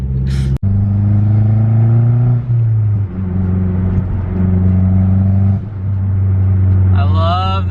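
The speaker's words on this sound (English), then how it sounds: "I love the turbo spool." A Mazdaspeed 6 with a smoking turbo drones steadily from inside the cabin while driving, holding a low engine tone that shifts with gear changes and ends in a rising whistle of turbo spool, with talking over it.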